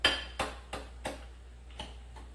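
A spoon stirs microwaved oats in a bowl. Six light clinks of utensil against the bowl come in a loose rhythm, close and fairly quiet, with no talking.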